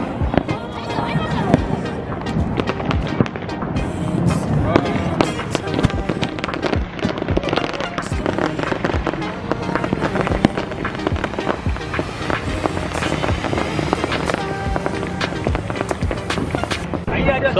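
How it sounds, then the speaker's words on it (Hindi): Firecrackers and fireworks go off continuously during a crowded Diwali celebration at the Sabarmati Riverfront in Ahmedabad, with dense crackling bursts and pops over steady crowd noise and voices. "जहाँ पे कई सारे लोग पटाखे जला रहे हैं"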